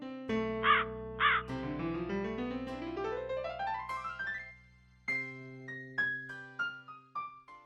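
A cartoon crow's voice gives a run of bright, musical caws that slide upward in pitch, then a series of short, falling calls, loud and close with no talking.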